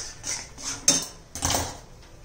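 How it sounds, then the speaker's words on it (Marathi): Gram flour roasts slowly in a pan over low heat while a utensil stirs it, giving a few soft scrapes and two sharper metallic clinks against the pan, close and fairly quiet. "मंद गॅसवर बेसन भाजायचं आहे, अजिबात घाई करायची नाहीये।"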